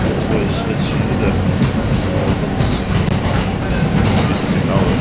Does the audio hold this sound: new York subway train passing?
yes